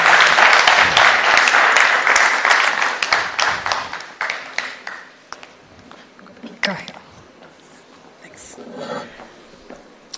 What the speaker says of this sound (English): Could we have a huge round of applause for Anjali Joshi?